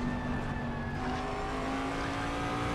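A race car engine roars continuously in the Assetto Corsa Competizione racing game, loud and steady with a constant whine and dense engine noise filling the whole moment.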